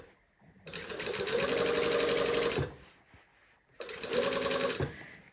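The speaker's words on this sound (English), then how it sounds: "we are just going to sew around the neckline." A sewing machine stitches piping around a garment neckline in two steady runs, a long continuous hum then a pause and a shorter second burst, close and loud.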